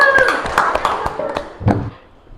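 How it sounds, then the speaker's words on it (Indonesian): A classroom of students claps hands together in a physics lesson on heat and temperature, a burst of irregular quick claps that fades out over a couple of seconds, with some voices mixed in. "Oke, tepuk tangan semuanya."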